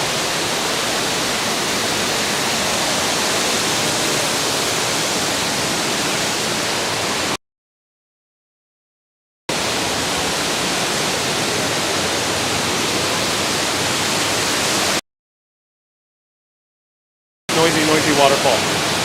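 A noisy waterfall roars as a loud, steady wash of rushing water, cut by two short silent gaps.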